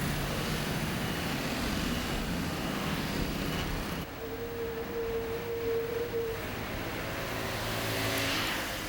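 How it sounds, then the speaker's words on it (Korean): Steady scooter engine noise fills a busy Kaohsiung industrial-district street at morning commute, a continuous wash of motor hum with a brief tonal whine in the middle, fairly close. "까오슝의 아침은 출근하는 공단 근로자들의 스쿠터 소리로 시작된다."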